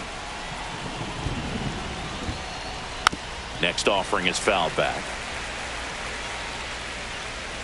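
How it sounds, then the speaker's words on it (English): Steady rain pours over a ballpark during a Cardinals versus Royals baseball game, a constant broadband hiss throughout, with a commentator talking over it partway through. "This rain is not letting up."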